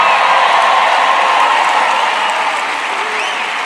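A packed rally crowd cheering and applauding, a loud, dense, continuous wash of clapping that fades slightly toward the end.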